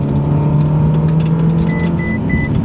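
A Ferrari California T climbs uphill under load, its engine holding a loud, steady drone heard from inside the car, with a faint high whine toward the end and no talk.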